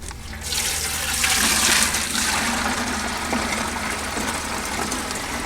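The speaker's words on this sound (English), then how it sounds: "fill up this 2-gallon watering can with water" Water gushes steadily from a tap into a 2-gallon watering can, a constant rushing pour that holds for several seconds without pause.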